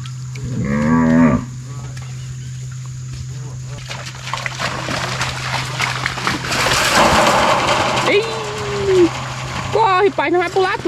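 Nelore cattle moo loudly while being herded on a ranch, a few long lowing calls at the start, middle and end, amid shouting men, splashing water and background noise.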